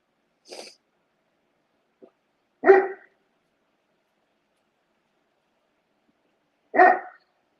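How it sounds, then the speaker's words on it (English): A dog barks outdoors in three separate bursts, the two later ones louder and fuller, with stretches of silence between them. "I apologize for my dog"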